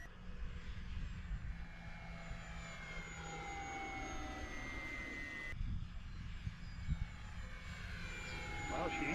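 An FMS Pilatus PC-21 model airplane on its maiden flight drones steadily in the distance, its engine whine holding through the clip with wind noise and faint talk.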